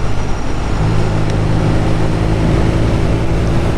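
A BMW R nineT motorcycle cruising through corners, probably in sixth gear, its steady low engine drone and wind roar continuous and fairly loud with no talk.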